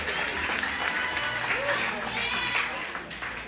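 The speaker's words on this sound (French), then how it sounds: "Je vous demande de les applaudir" A pageant audience claps for the contestants at a Miss World grand final, dense applause running steadily throughout with crowd noise and a voice over the top.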